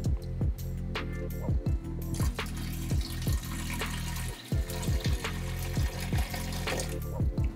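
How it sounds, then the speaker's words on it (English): Water runs from a tap in a steady stream while it is poured into an Instant Pot holding a whole chicken, with brief breaks and soft clunks as the flow shifts. "I'm gonna add a little bit more water."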